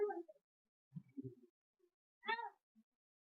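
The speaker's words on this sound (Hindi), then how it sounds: "बिल्ली का बच्चा अंदर आ गया" A kitten with an eye infection meows indoors, giving a short call at the start and a clear, louder meow later, with soft low murmurs and a faint voice in between.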